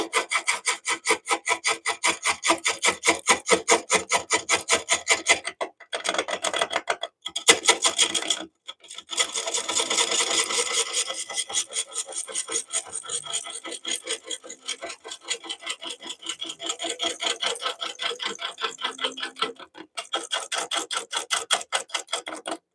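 A lathe tool scrapes a spinning oak bowl with a cork section, removing glue: fast rhythmic rasping ticks in steady runs, broken by a few short pauses.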